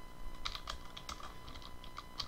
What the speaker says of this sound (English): let's just type some example text